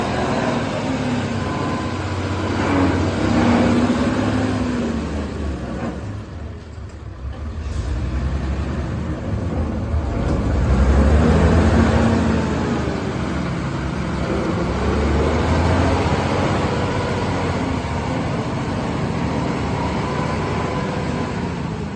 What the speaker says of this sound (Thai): จะเป็นเครื่องยนต์อีซูซูนะคะ